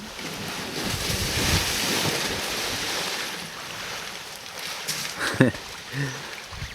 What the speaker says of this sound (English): There's quite a breeze blowing